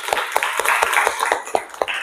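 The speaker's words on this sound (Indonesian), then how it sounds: "Kasih tepuk tangan untuk Sekar." A class of students claps for a classmate in a classroom. The clapping is fairly loose and rhythmic, with distinct sharp claps repeating over a couple of seconds.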